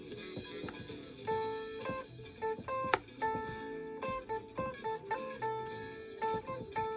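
An electric guitar improvises over a backing, repeatedly picking between just two notes in short, punchy bursts with gaps, sitting fairly quiet over a busy rhythmic accompaniment.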